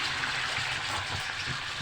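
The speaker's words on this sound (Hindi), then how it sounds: "1 गिलास के करीब पानी डाल के और इसको हम ढक के रख देंगे।" A glass of water pours into a pan of tomatoes and onions cooking in a little oil, a brief continuous gushing splash at close range, steady from start to finish.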